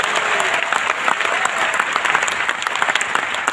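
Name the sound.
congregation applause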